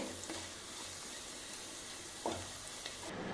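Onions frying in ghee with a spoonful of sugar added, a steady close sizzle throughout with a brief louder stir or clatter near the end and no talking.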